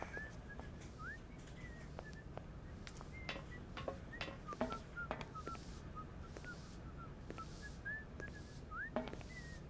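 A character whistling in the video game Syberia, short repeated whistled notes and slides scattered over the span, fairly faint, among intermittent clicks and ambient background sounds, with no talk.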